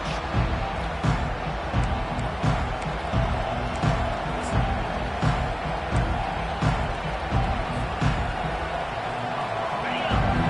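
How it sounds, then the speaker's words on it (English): Steady, dense stadium crowd roar from a Madden football video game, a continuous wash of noise with faint scattered claps and shouts, at an even loudness throughout. "This crowd bringing the energy and noise early."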